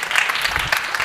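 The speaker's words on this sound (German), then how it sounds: "Trotzdem auch nochmal ein Beifall für ihn." Conference audience at re:publica 2019 applauding after a talk, a dense, loud burst of many hands clapping that fills the whole short moment without voices.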